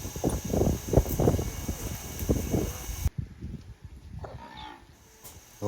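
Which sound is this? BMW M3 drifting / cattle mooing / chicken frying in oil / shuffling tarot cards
cattle mooing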